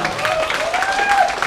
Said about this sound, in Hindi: उनके लिए अभी से एक बार जोरदार तालियां